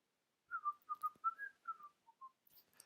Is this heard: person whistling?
yes